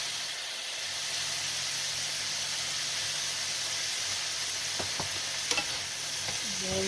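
Potatoes sauteing in a pan for a gluten-free potato lasagna, giving a steady, even sizzle and hiss throughout with a few faint utensil clinks near the end.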